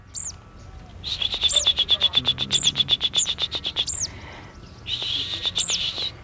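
Sogok ontong tailorbird chicks call from the nest in rapid, insistent trains of high, thin begging notes mixed with up-slurred chirps, close and loud with a short pause midway.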